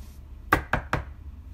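Three quick knocks on a door as a comedic sound effect, sharp and evenly spaced against a quiet background, with no voices.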